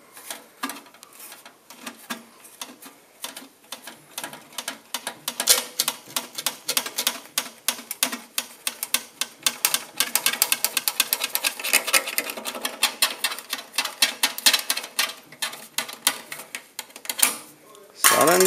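A roofer bends and presses sheet metal flashing at an eave and barge board with seaming pliers, producing rapid, dense clicking and tapping close by that speeds up and grows louder through the middle, with occasional brief talk.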